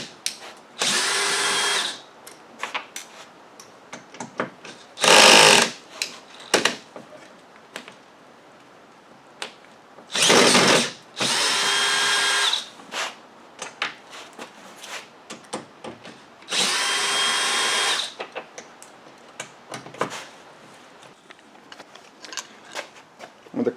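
Power drill backing T27 Torx screws out of a winch fascia, with four or five short whirring bursts separated by pauses filled with small clicks and handling noises, close and clear.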